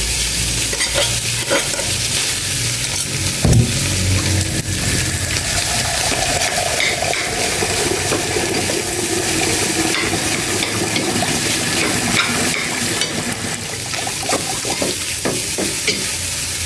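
Fried rice stir-fried in a pan: steady loud sizzling with scraping stirs and clanks of the utensil, continuous throughout with no talking.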